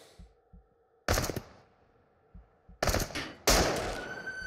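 Gunshots in the VR shooter Into The Radius: three loud, sharp bursts of firing separated by quiet stretches with soft low thumps, the last blast trailing into a ringing tail.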